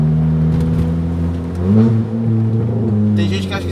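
A tuned Fiat Bravo 1.8 stage 2 engine pulls hard under acceleration, its loud, close droning tone rising and falling in pitch as revs climb, with a brief surge and faint hiss near the end.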